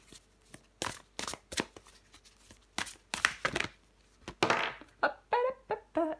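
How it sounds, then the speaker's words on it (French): A deck of tarot cards is shuffled and riffled close by in a series of sharp bursts and flutters, with breathy pauses between them. "Allez, je prends encore une carte pour vous"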